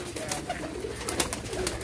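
Teddy pigeons coo softly in repeated gentle calls, a fairly close flock murmuring steadily with faint background noise.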